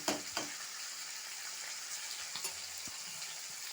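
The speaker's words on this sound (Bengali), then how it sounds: "মাছগুলো আমার এক পিট হয়ে গিয়েছে আর এক পিট আমি উল্টিয়ে দিলাম" Pieces of silver carp sizzle steadily in hot oil in a pan, a constant bright hiss with a couple of short knocks as the fish is turned.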